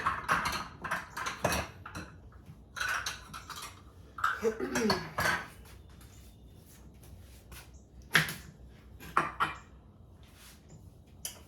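Knife chops through carrots, vegetables and cilantro on a cutting board in a home kitchen, bursts of quick rhythmic thuds and clatters with pauses between, fairly close, with a cough and throat clearing nearby.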